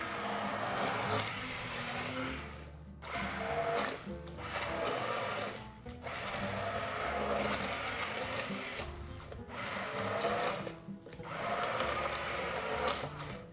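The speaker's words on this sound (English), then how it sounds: "Now we are going to blend the soup. You can use your stick blender or hand blender." A whirring electric hand blender blends zucchini and basil soup in steady bursts with brief pauses, buzzing close and loud with no talking.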